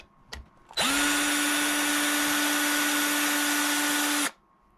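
A power drill driving screws whirs loudly and steadily for several seconds after a brief click, then stops abruptly, with no talking.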